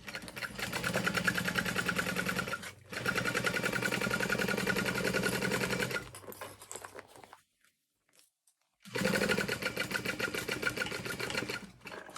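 A sewing machine stitching a large handbag beside a stabilizer, running in steady buzzing bursts with brief pauses and a near-silent gap before a final run, close and fairly loud.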